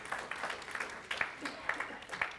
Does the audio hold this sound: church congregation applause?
yes